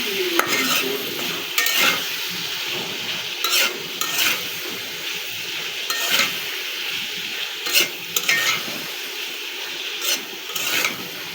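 Dried loitta fish frying with garlic, onion, chili and spices in a pan gives a close, continuous sizzle, broken by repeated sharp scrapes and knocks of a spoon stirring at a steady rhythm.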